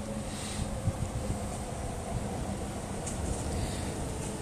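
Strong wind blows steadily outdoors, a dense continuous roar with buffeting gusts against the microphone, loud and without talk throughout.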